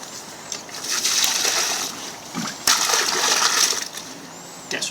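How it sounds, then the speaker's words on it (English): Water poured into a planting hole in a garden, a steady splashing gush lasting several seconds with a brief pause midway, close by, and birds faintly audible in the background. "get some water in the hole"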